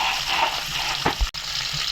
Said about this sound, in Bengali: বন্ধুরা, মাছ ভাইজা নিতে আসি